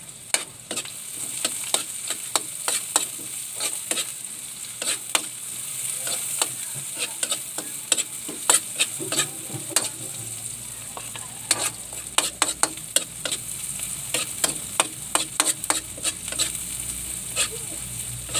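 Onions sizzle in a pan while being stirred for garlic crab, a steady frying hiss under repeated sharp scrapes and taps of the spatula against the pan, close and clear with no talk.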